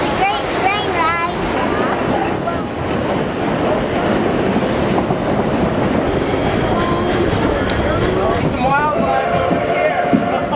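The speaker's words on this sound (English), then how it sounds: "This is a great train ride." The Durango and Silverton narrow gauge railroad train rumbles and clatters continuously while riding, with rhythmic wheel clicks and squeals, and people talking over the steady loud noise.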